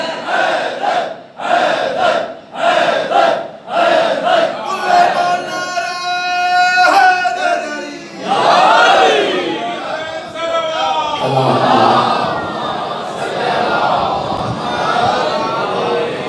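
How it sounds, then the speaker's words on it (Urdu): A large crowd at a Muharram religious gathering chants "Haidar" together in steady repeated bursts, loud and echoing, followed by sustained wavering massed voices. "حیدر کا نعرہ جس طرح میں چاہتا تھا اس طرح نہیں لگایا"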